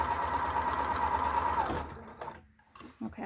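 A sewing machine stitches a fabric face mask in a fast, steady whir for nearly two seconds, then stops, leaving faint handling sounds and small clicks.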